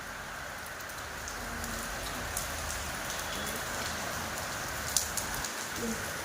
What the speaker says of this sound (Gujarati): જો વરસાદ